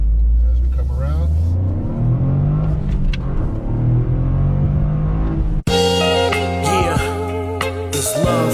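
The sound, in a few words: Toyota GR Corolla three-cylinder engine accelerating in Sport mode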